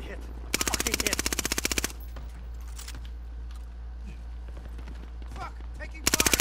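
Loud bursts of automatic gunfire in Call of Duty: Modern Warfare, a long rapid volley early on and another at the end, over a steady low rumble of battle ambience.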